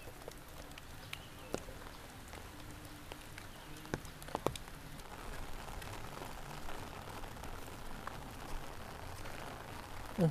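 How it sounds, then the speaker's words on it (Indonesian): Light rain drizzles over a quiet Sundanese village, a faint hiss dotted with sparse, irregular drip ticks close by, with a few sharper taps scattered through. "terdengar ya rincik-rincik hujan."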